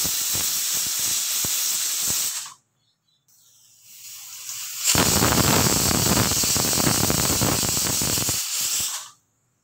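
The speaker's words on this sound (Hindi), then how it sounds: "दो सीटियां लग गई। गैस बंद कर देनी है। प्रेशर अपने आप निकल जूगा।" A pressure cooker cooking white chickpeas vents steam in loud, steady hissing bursts, one for about two seconds and a longer one lasting several seconds, with a brief quiet gap between and no voices.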